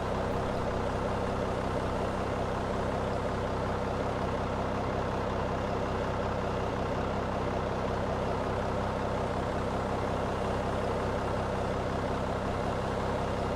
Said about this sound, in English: He's pushing us back.